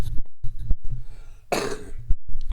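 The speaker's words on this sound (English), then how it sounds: "Excuse me, I am going to cough." A man at a microphone coughs several times in quick, rough bursts, close and fairly loud, with short pauses between them and one heavier, breathy hack in the middle.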